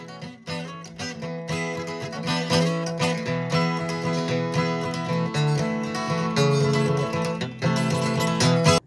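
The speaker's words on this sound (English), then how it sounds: "Your acoustic guitar strumming might sound a little like this." Acoustic guitar strummed in a folk style, open E tuning, with steady full chords ringing continuously and loudly throughout, no voices.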